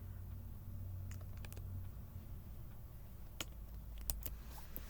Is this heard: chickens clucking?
no